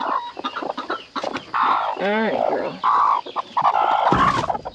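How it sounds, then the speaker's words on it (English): Several broody hens cluck and murmur close by in a backyard coop on a warm summer evening, a steady run of low, throaty calls with one rising squawk, while someone speaks softly over them. "Alright, just a whole cluster of broody hens there."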